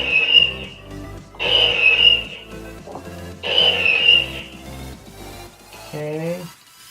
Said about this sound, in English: this button right here triggers hyperdrive